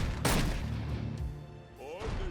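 Shotgun blasts in the action game Orcs Must Die! 3, a loud broadband burst followed by game effects and background music, with a voice talking over it.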